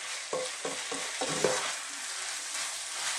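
Pork and mushrooms for a Jamaican curry are stirred in a pot over medium heat, with four or five scraping strokes over a steady close sizzle.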